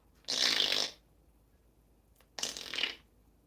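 A parrot imitates a water noise in two short, bright, hissing splashes about two seconds apart, close and fairly soft in an otherwise quiet room.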